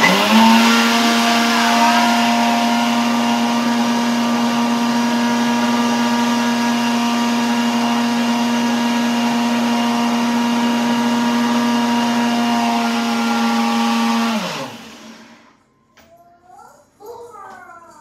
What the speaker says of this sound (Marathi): वहिनीचं मिक्सर लागत होतं ना